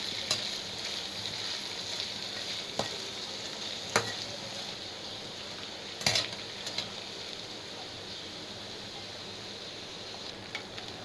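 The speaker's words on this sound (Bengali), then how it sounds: "এখন আমি তিল্লিগুলো দিয়ে দিব। দেখুন এভাবে ভেজে নেব আমি।" Pieces of beef spleen fry in hot oil in a pan with a soft, even sizzle. Sharp clinks of a utensil against the pan come every couple of seconds.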